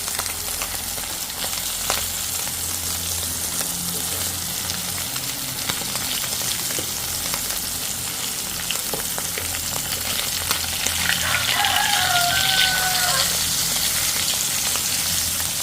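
Egg frying in a pan, a steady broadband sizzle and crackle running throughout at moderate level, with a few brief brighter spits near the end and no talk.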